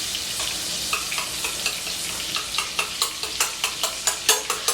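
A roux for sawmill gravy cooks in a pan, a continuous light sizzle under a stirring spoon whose scrapes grow into a quick, regular rhythm toward the end; no voices.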